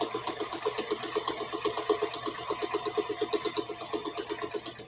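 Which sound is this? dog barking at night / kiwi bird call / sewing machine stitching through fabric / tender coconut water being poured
sewing machine stitching through fabric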